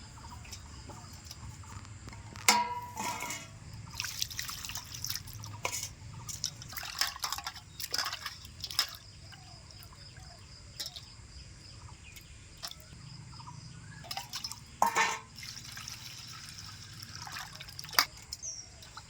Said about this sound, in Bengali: মাছটাকে আমি কেটে নিয়েছি, এখন আমি ভালো করে ধুয়ে নেব।